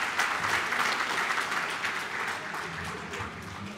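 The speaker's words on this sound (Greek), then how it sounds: "για αυτό το θερμό χειροκρότημα" A party audience gives warm, sustained applause, dense clapping from a large crowd that fades slightly toward the end.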